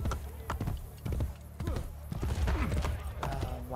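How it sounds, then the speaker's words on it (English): Horse hooves clip-clop in the Assassin's Creed Brotherhood video game, a run of quick irregular thuds at moderate loudness amid game background sounds, with no clear talk. "This is Clara, my horse."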